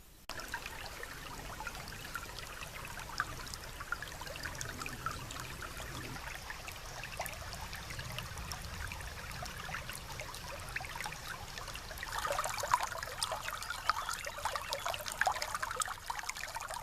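A river flowing near a waterfall at a solo bivouac spot, a steady broadband rush of running water with a brighter, louder surge in the last few seconds, no voices.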